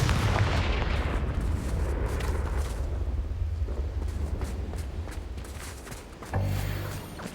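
Confringo spell blasts in the Hogwarts Legacy video game, booming explosions with rumbling, crackling tails that roll on continuously, then a sharper fresh impact near the end.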